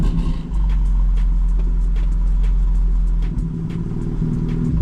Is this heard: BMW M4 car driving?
yes